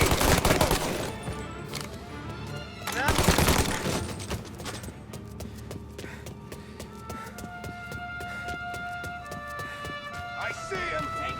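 Gunfire in the video game Mafia Definitive Edition: two loud bursts of rapid shots, one at the very start and another a few seconds later, then quieter sustained game sounds with voices around them.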